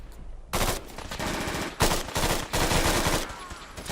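Rapid bursts of automatic gunfire as a player shoots at raiders in a heavily modded wasteland video game, loud and close, in three or four dense rattling bursts separated by brief pauses.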